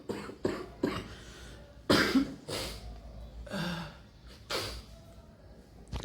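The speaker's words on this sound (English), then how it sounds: "Sorry, I'm having cough as well." A person with a chest cold and catarrh coughs several times close to the microphone: short harsh bursts spaced irregularly, some in quick pairs, with breathy pauses between.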